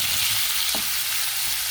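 Vegetables sizzle loudly in a hot pan as they are stirred, a constant dense frying hiss with one brief scrape of the utensil, close and without talk.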